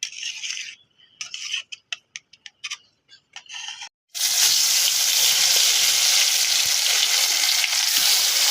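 Hot oil tempering over taro curry: scattered clicks and short hissing bursts, then a sudden loud, steady sizzle that fills the rest of the clip, close and unbroken.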